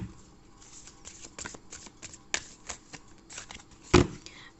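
Tarot cards being shuffled by hand: a run of quick riffling and sliding card sounds with sharp snaps, the loudest near the end, close and moderately quiet, with no talking.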